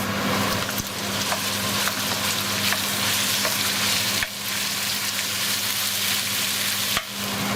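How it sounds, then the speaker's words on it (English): Ground beef frying with garlic and bay leaves in a pan, a loud, steady, close sizzle that runs unbroken, with a few short stirring scrapes and no voices. "So next I'm going to add my ground beef."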